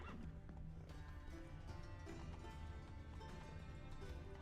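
Galloping hoofbeats of Geralt's horse Roach in The Witcher 3, a steady, rapid clip-clop rhythm running throughout at moderate distance, blended with soft game ambience.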